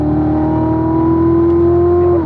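Race car downshifting on the Spring Mountain track, a steady loud engine drone whose pitch holds and then falls slightly as revs drop, with no speech.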